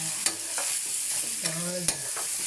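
Dinuguan, a pork blood stew, gets stirred in a pan. Several sharp spoon scrapes and knocks ring out over a continuous sizzle, with a squeaky tonal scrape near the middle. No one speaks.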